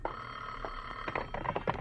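A telephone bell rings as a radio drama sound effect, a steady trill with a few louder bursts near the end, fairly quiet and heard alone.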